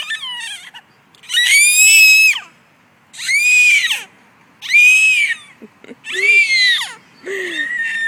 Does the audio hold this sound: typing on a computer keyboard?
no